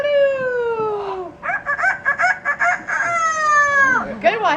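A yellow-naped Amazon parrot imitates a rooster crowing, with long drawn-out crowing calls and a burst of short clucking notes in between, close and clear.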